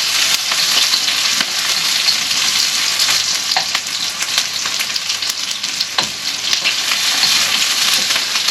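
Onions browning in a pan for Filipino pancit give a loud, dense, continuous sizzle with intermittent scrapes and taps of stirring, no voices.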